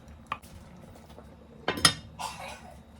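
A lid goes onto a pot of chicken curry on the stove, giving a couple of sharp metallic clinks and a rattle against the rim, close by and otherwise quiet.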